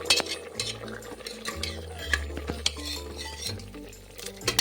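Kootu curry stirred in a pot with a spoon, giving a few soft scraping clinks and clatters of metal on the vessel over a low steady kitchen hum, close and moderately quiet, with no talking.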